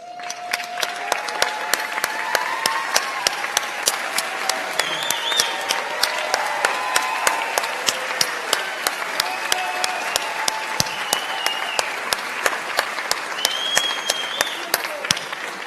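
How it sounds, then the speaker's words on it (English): A crowd at a university homecoming awards show gives a standing round of applause, steady dense clapping with scattered whistles, continuous and lively from start to finish. "We ask that you stand up and receive another round of applause, please."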